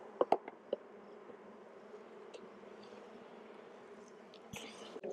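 Faint, steady buzzing of honeybees at an open Apimaye hive fills the background, with a few close clicks and knocks near the start and end.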